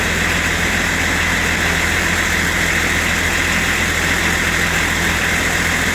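A Range Rover P38 engine idles steadily nearby during a gearbox oil and filter service, a continuous low rumble with a broad hiss on top, constant in level throughout with no voices.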